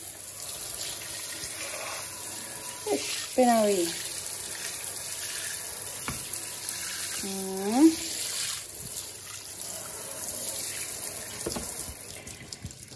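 Tap water runs steadily over a surface, rinsing off leftover cleaning foam in a household setting, with a person speaking briefly over the constant hiss and a few short tonal squeaks.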